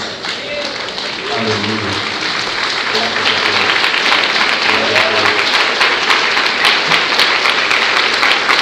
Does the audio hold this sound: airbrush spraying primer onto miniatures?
no